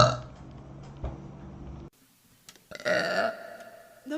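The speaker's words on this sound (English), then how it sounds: "That was a huge burp." A woman lets out a long, loud, deep burp that rumbles for nearly two seconds, followed by a brief pause and then some breathy vocal noise.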